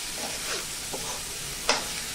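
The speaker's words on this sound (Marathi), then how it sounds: "भाजी छान हलवून घेऊया।" Ridge gourd (gilki) bhaji is stirred in a pan, a soft scraping sizzle with a few light spoon scrapes and one sharper clink of utensil against the pan near the end.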